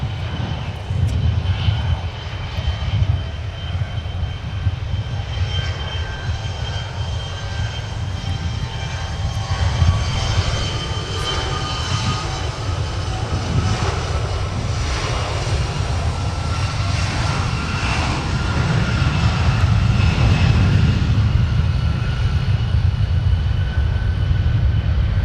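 Engines of a Boeing 747 jet airliner at Minneapolis–Saint Paul airport produce a loud, steady roar with a deep rumble that swells slightly over the whole stretch, with no talk over it.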